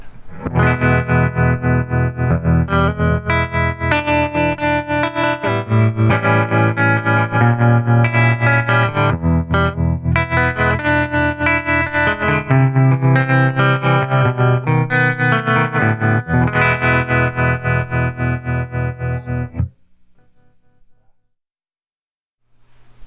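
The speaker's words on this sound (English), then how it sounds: "as you hear, it's a really great sort of swampy tremolo" Distorted electric guitar chords through a DusTone tremolo pedal at fast speed, the pulsing tremolo chopping the sound, played steadily and loud before ending abruptly into near silence.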